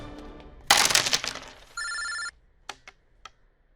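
A loud crash or burst of noise, followed by a short electronic telephone ring and a few sharp clicks at a moderate distance.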